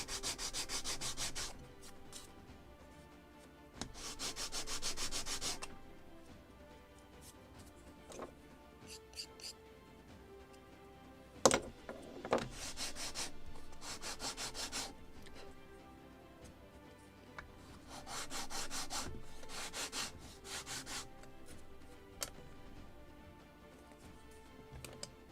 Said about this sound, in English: Just need to sand these two planks.